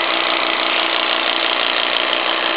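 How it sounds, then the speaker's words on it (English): Vertical fire-tube live steam plant for a Diana launch, running steadily at close range as its feed pump pushes water into the boiler, a continuous dense hiss and mechanical churn with no talk. "You can hear how the engine slowed down when I started pumping more water into the boiler."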